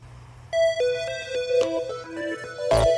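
A phone rings on an outgoing call, giving a melodic electronic tone pattern that repeats over low background hum, ending with a brief loud burst.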